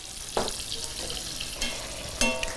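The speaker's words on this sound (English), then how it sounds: "We're just going to put the lid on now and let this cook for about 4 to 6 minutes." Food seared in a covered pan gives off a steady, moderately loud sizzle and frying hiss, with a few brighter crackles and pops along the way and no talking.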